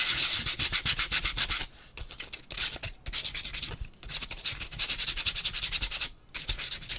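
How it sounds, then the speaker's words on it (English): Wood blocks sanded by hand with sandpaper, a close, steady rasping scrub in rhythmic back-and-forth strokes with a few brief pauses between passes. "And we're just going to sand."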